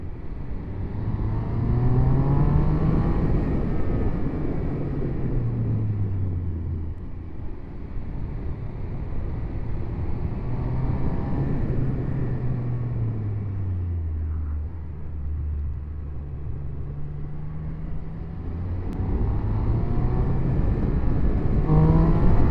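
Triumph 1200 RS motorcycle engine heard while riding, a loud continuous drone that rises and falls in pitch through several throttle openings and gear changes, steady and close throughout.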